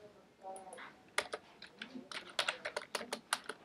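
Fingers tap out Java code for an Android app on a computer keyboard, a close, uneven run of quick clicky keystrokes that picks up speed in the second half, with soft background noise and no talking.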